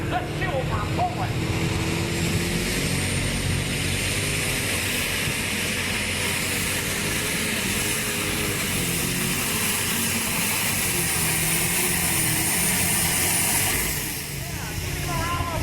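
An alcohol-burning pulling tractor roars down the track at a pull event, a sustained loud engine drone with a shifting whine, while an announcer talks over it and the noise eases near the end.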